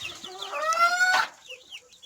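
Crested hens and a rooster in a farmyard make repeated short clucks, then one loud drawn-out squawking call from a bird close by, followed by quieter clucking and distant bird chatter.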